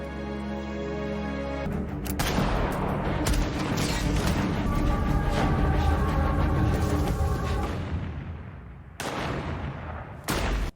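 Gunfire rings out in a dramatized escape from North Korea as a dense, loud burst of shots and booms rolls on for several seconds, breaks off, and then returns in short sharp bursts.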